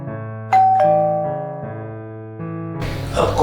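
Electronic doorbell in a home rings repeatedly, clear ding-dong tones sounding one after another, followed by a louder burst of noise at the end.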